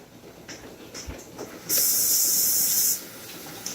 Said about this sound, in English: you can rinse it in warm water